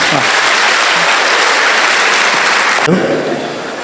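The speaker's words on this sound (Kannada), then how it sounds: "ಅವರಿಗೆ ಚಪ್ಪಾಳೆ ತೊಟ್ಟುತ್ತಾ ಸ್ವಾಗತ ಮಾಡಬೇಕು" Loud, dense applause from an audience welcoming a newly appointed police sub-inspector at a function, sustained and close, briefly swelling before tapering off at the end.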